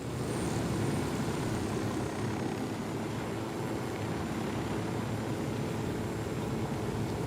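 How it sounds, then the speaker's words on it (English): A helicopter in the video game Ghost Recon Wildlands drones steadily throughout, a continuous moderately quiet rotor and engine hum with no talking. "Helicopters also make these convoy missions light work."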